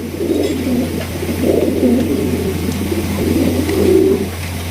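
King pigeons coo in repeated low, throaty rolls at a Bangladeshi pigeon market, the calls swelling in overlapping waves over a steady low hum, fairly close and loud, with no talking.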